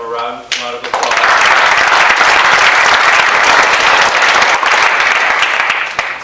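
An audience at an exhibit's opening remarks breaks into loud, sustained applause that fills the room for several seconds after a brief voice at the start.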